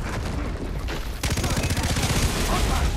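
Fast, steady automatic gunfire in Far Cry 3 starts abruptly partway through and rattles on loudly and evenly to the end, following a short stretch of quieter game sound.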